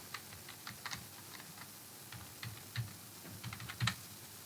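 A mobile number is tapped out on a computer keyboard while filling in an online road tax payment form, with quick irregular clicks in short bursts, close and fairly quiet, without speech.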